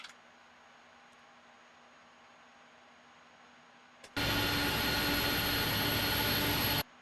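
A Pratt & Whitney jet engine on an A300-600F in Microsoft Flight Simulator 2024 roars to a loud, steady, hissing full power after several seconds of low background hum, then cuts off abruptly.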